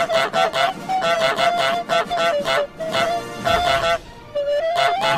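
Repeated honking of the goose in Untitled Goose Game, a string of short nasal calls in quick bursts with brief gaps, loud and close over light game background, with a voice talking now and then.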